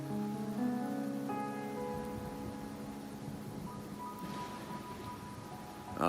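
Steady rain falls in Raguna in Wuthering Waves, a continuous soft hiss of drops on surfaces that runs through the whole stretch, with faint tonal music layered over it.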